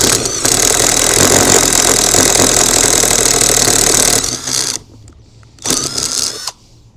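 An OZITO 18V impact driver boring a 25 mm hole runs loud and steady for about four seconds, drops out briefly, then whirs again in a shorter burst before stopping.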